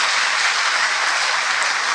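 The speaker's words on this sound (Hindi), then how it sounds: "बहुत अच्छा, ताली बजाएं।" Dense, loud applause from a large audience at a spiritual stress-relief camp gathering, sustained clapping filling the whole moment with no speech over it.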